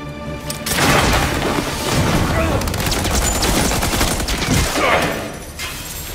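Gunfire erupts in the video game Batman: Arkham Origins, loud rapid bursts and booming shots rolling continuously over several seconds, with game voices mixed in.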